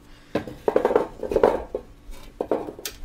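Metal clatter in a kitchen as a grater is handled while preparing roast leg of lamb, giving a few scattered, close knocks and scrapes with short pauses between.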